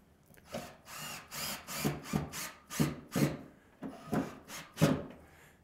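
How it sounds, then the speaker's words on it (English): A power drill drives a 2 1/2 inch screw through an angle bracket into a wall stud while a cabinet is mounted, heard as about ten short, close whirring bursts with brief pauses between them. "he's gonna take a 2 1/2 inch screw, screw it through the angle bracket."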